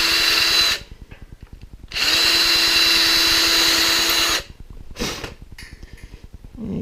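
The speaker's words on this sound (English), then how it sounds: "I'm going to drill both holes" Power drill boring holes in wood for a trap gate, two loud sustained whirring bursts with a pause between, then a short third burst followed by quieter handling noise.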